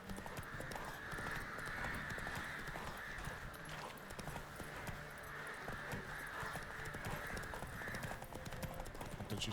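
Horse hooves clip-clop steadily in The Witcher 3: Wild Hunt, a continuous galloping rhythm carried under constant game ambience, with a faint whinny and low background sound throughout.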